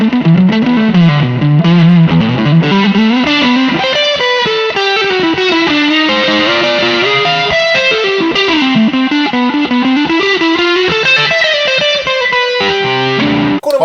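An electric guitar plays through a Catalinbread effects pedal stacked with distortion. Loud, saturated chords and sliding melodic lines ring out steadily, thick with overtones and shimmering modulation, with no voices.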